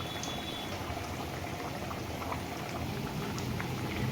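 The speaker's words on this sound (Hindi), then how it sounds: "जैसे जैसे कचौरियां फ्राई होती जा रही हैं हल्की हल्की, अपने आप ऊपर आती जा रही हैं" Wheat flour kachoris deep fry four at a time in a wok of oil, giving a dense, even bubbling hiss that holds steady and fairly quiet at close range, with no talking.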